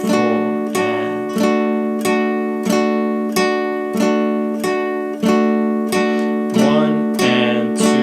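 A guitar is strummed in a steady four-count rhythm of downstrokes and upstrokes, each chord ringing brightly and evenly, close and alone with no voice.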